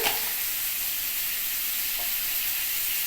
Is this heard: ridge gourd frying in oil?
yes